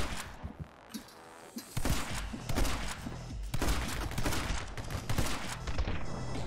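Double shotguns blasting in the action game My Friend Pedro, a chaotic run of loud booming shots and impacts layered over game music and effects, continuous throughout.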